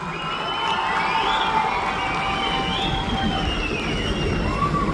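A crowd cheering and shouting at a live concert at a temple event in Kapu, Udupi, a loud sustained roar with whistles rising above it and no gaps.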